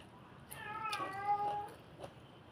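A tabby house cat meows once, close and fairly soft, a drawn-out rising and falling cry in a quiet home.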